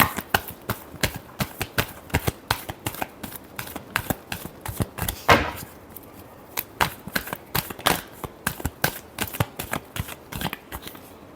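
Tarot cards being shuffled by hand, a long run of quick crisp riffling bursts in a steady rhythm with a brief louder flurry midway, close and clear with no talk.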